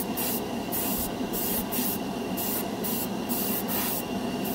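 A cheap $14 dual action airbrush sprays paint in a steady close hiss, broken by rhythmic bursts as the trigger pulses, with no talking.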